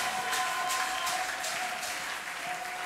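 Worship congregation applauding together, a steady dense wash of clapping with faint rhythmic surges, moderately loud and continuous throughout with no voices standing out.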